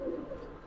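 Young Giribaz pigeons at a sale coo in a short low warble, close and fairly quiet, with no voices over them.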